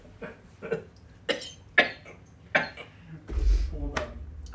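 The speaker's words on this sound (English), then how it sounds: "I'm coughing up too much." A man who has just eaten coughs repeatedly at his microphone: a string of short, close, irregular hacking coughs with brief pauses between them, ending in a heavier throaty rumble.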